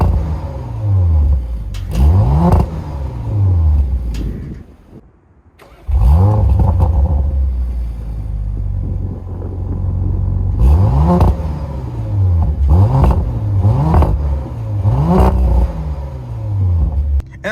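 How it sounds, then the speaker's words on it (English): A 2023 Audi RS5 Competition in dynamic mode starting up and revving, repeated rising and falling engine blips with exhaust pops, loud and close, with a short lull before the revs resume. "now if I put my foot on the brake, start it up, get some pops"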